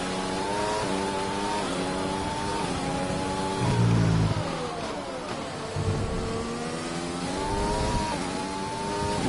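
A Formula 1 car's engine in the F1 2020 game screams steadily through upshifts and downshifts in a China race on a wet track, loud and continuous with repeated rising pitch sweeps.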